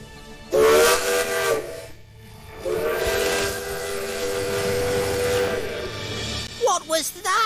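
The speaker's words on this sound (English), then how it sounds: "It was a three-chime steam whistle." A three-chime steam whistle on a steam locomotive blows loud and near in two long harmonious blasts separated by a short gap, with a brief voice-like squeak at the end.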